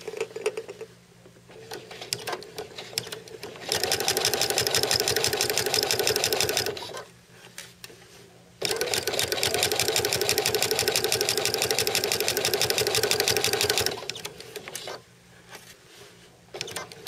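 Domestic sewing machine stitching a quilt's finishing border, two long bursts of rapid, steady mechanical whirring, close and loud, separated by brief quiet pauses while the fabric is repositioned.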